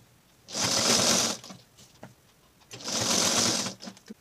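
A sewing machine stitching a fabric strip onto a square neckline runs in two close, loud bursts of rapid needle chatter, each about a second long, separated by a quiet pause with faint handling clicks.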